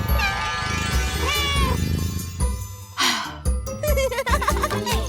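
Several cats meow repeatedly in a small indoor space, overlapping high rising cries with a brief caterwaul, loud and close throughout with music faintly underneath.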